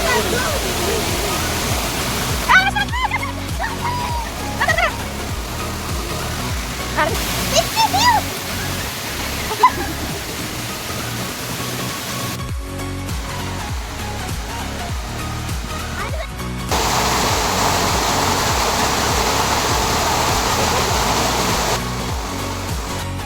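Clear water pouring from a tunnel into a stream, a steady rushing flow that fills the whole scene, heard close and continuous, with a few louder splashy surges and faint background voices.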